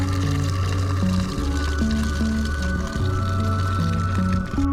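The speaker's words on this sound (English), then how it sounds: "Adding the new Napa yellow coolant." New Napa yellow coolant pours into a 2005 Duramax truck's cooling system, a continuous close liquid gurgle and fill sound lasting several seconds beneath background music.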